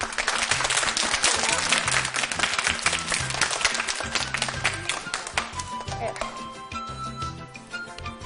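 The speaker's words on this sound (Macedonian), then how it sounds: "Ајде еден аплауз." Audience applause fills the whole stretch, loud and dense at first and then thinning slightly toward the end, with music and voices running underneath.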